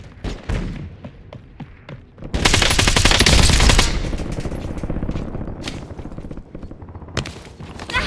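A video-game firefight: scattered single shots, then a long loud burst of automatic machine-gun fire lasting over a second, followed by more sharp shots and thuds at varying distance.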